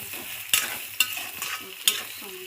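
Beaten eggs for egg fried rice sizzle softly in a pan while a utensil stirs them, with several sharp clacks of the spatula against the metal over a continuous frying hiss, close by with no talking.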